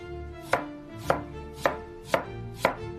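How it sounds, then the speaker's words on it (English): Five sharp knife chops into a carrot on a cutting board, evenly spaced about half a second apart, crisp and close with no voices. "Chop the carrot."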